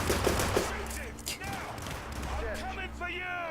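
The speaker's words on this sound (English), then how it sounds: "Somebody shooting at me?" Gunfire in the stealth game Hitman, a quick burst of several sharp shots at the start, then fainter scattered reports mixed with game sounds and a talking voice.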